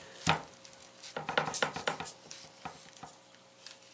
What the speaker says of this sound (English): starting with your chef knife, you're going to cut down the center of your onion